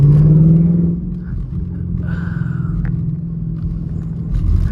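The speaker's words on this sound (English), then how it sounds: "But the sound that these cars make bouncing off the trees is insane." A Ford Mustang engine rumbles and drones while driving, loud and close, with a strong low roar that eases slightly after the first second and then holds steady with brief higher whines.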